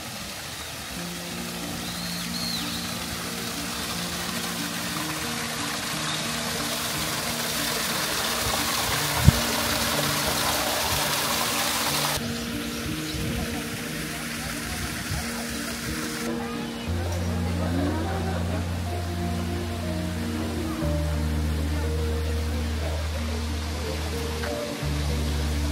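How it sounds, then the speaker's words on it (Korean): Water rushes steadily in a flowing valley stream, a constant close wash of noise with a low hum appearing near the end. "시원하고 아름다운 계곡이 나옵니다. 물소리, 새소리에 잠시 힐링을 합니다."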